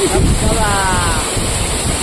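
Steady roar of a white-water waterfall near the cave village of Phophsandi in a lush natural setting, a broad continuous rush filling the whole span with no clear talk over it.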